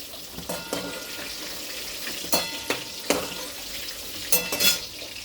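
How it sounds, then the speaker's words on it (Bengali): Eggplant fries lightly in hot oil, a steady soft sizzle with several sharp bursts of spattering and pan clatter as pieces are turned, close by, no talking. "বেগুনটা বেশি ভাজবো না, হালকাই ভাজবো"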